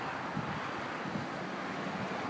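Floodwater pours over a dam embankment wall beside a bike path in Troy, Ohio, a steady, dense roar of rushing water mixed with wind buffeting the microphone, continuous and loud throughout with no voices.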